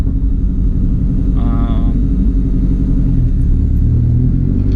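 A Subaru WRX hatchback fitted with a 2015 STI steering rack drives along, a loud, steady low engine and road rumble inside the cabin with a brief tonal whine partway through.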